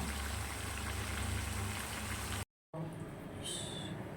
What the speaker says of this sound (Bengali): খাসির মাংসটা ভালো করে প্রায় 10 থেকে 15 মিনিট কষানো যায়